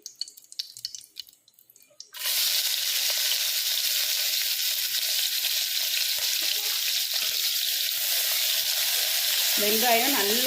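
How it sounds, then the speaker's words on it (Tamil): After a couple of seconds of quieter clinking, a loud, steady sizzle of chopped onions frying in a pan for parotta salna fills the rest of the clip, close up. "வெங்காயம் நல்லா வணங்கணும்."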